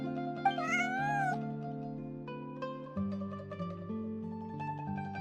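A cat in the video game Genshin Impact gives one bright, rising meow over soft, sustained game music, with no talking.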